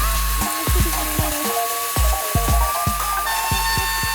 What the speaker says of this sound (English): start cutting away with a router and preferably